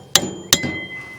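Two sharp metallic hammer taps drive a new spindle bearing into place, close and distinct with a ringing tone after each strike, about a third of a second apart.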